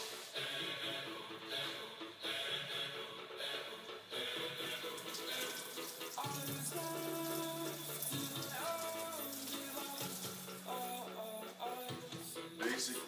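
Tap water runs steadily into a lab sink while equipment is rinsed, a continuous splashing wash with clinks and shifting tones as items move under the stream, no talk.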